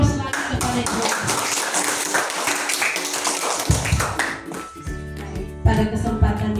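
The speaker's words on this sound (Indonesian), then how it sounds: "Mari kita berikan aplaus lagi kepada Ibu Wakasek." An audience at a school teachers' event applauds for the vice principal, a dense, steady patter of many hands clapping for several seconds, then a voice comes in over the fading applause.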